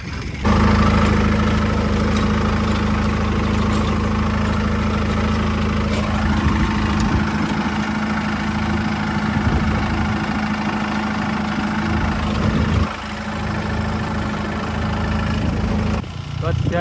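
A tractor engine idles in a steady, low, rumbling drone that holds evenly for the whole stretch, close and loud with a faint mechanical knock underneath.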